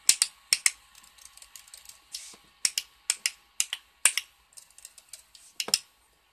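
Crisp, close keyboard typing in quick irregular bursts, mixed with sharp mouse clicks, with no talking.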